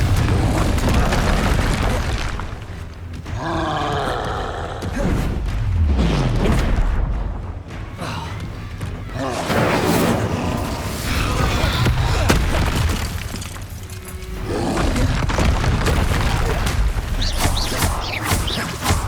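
Confringo fire-spell blasts in Hogwarts Legacy combat, repeated loud booming explosions with crackling debris and bursts of whooshing magic, dense and continuous throughout.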